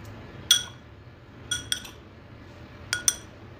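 Powdered curry leaves spooned into a small iron wok, giving several light metallic clinks of a spoon against the pan in spaced pairs, quiet and close with no talk.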